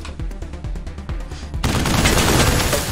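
Heavy gun in Wasteland 3 combat, a rapid burst of booming shots followed by a dense, loud roar of sustained gunfire and explosions, close and overwhelming.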